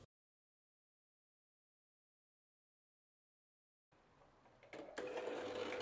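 A sewing machine runs a zigzag stitch along the edge of a fabric cutout, starting after a long silence and building into a steady, close mechanical whir that grows louder toward the end.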